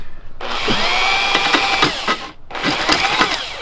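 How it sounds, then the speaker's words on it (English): A Sawzall reciprocating saw cuts through a wooden beam on a lifted barn-find Volkswagen Beetle project, buzzing loud and steady for about two seconds, dropping out briefly, then starting again with a rough, rattling stroke. "might have to bust out this Sawzall"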